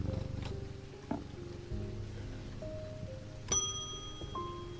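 A cat in a video game makes soft purring and chirping sounds over a low steady hum, with a few brief bell-like pings and tones.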